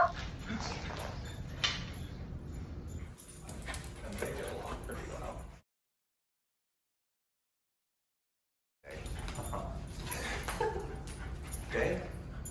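Small dogs playing with a raccoon whimper, yip and give short barks up close while people talk quietly. A few seconds of complete silence break up the sound partway through.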